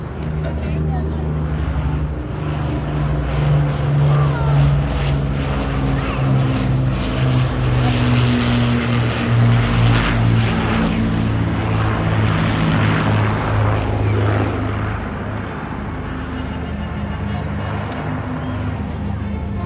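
Avro Lancaster bombers passing over an air display at Folkestone, a loud sustained multi-engine propeller drone that swells and holds before easing slightly, with a crowd murmur and occasional talk beneath it.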